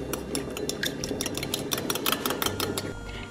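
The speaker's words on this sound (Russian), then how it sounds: "Для этого нам понадобится один желток и половинка сока лимона. Все это хорошенько размешаем" A utensil stirs egg yolk with lemon juice in a bowl, giving rapid close rhythmic clinks and scrapes against the dish that continue without pause.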